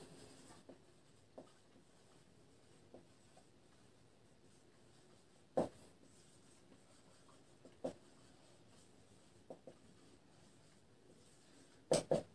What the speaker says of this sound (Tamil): இப்போ இந்த கணக்கை எழுத்தை பயன்படுத்தி நம்ம எழுத போகிறோம்